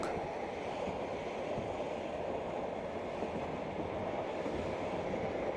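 A train rolls across the Central Asian steppes, a steady, fairly faint rumble with dense rhythmic clatter of wheels on rails and no voices.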